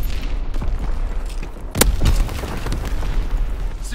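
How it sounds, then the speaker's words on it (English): Air bomb explosions in Call of Duty: WWII, with loud deep booms and bursts rolling over continuous rumbling battle noise and one sharp nearby blast. "Counterintelligence air bomb."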